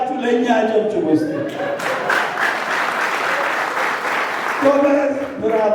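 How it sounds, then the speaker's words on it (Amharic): Applause from unmarried guests at a celebration, sustained dense clapping from a crowd for a few seconds, bracketed by a voice talking at the start and again at the end. "ያላገባችሁ ለእኛ አጨብጭቡ እስቲ"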